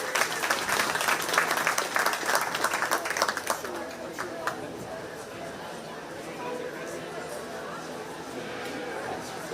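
An audience at a county fair 4-H sheep and goat show claps for the young exhibitors, a burst of applause that fades after a few seconds into crowd chatter and murmuring voices.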